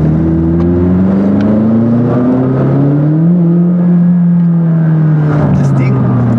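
McLaren 570S sports car accelerating on a track, heard from the cabin as a loud engine drone rising and falling in pitch through gear changes, with a steady whir underneath.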